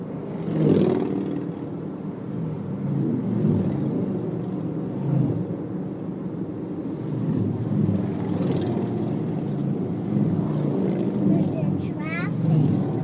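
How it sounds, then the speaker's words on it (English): Many motorcycles rumbling past in traffic, a continuous loud engine roar that swells and fades as bikes go by, with people talking over it. "There's so many motorcycles."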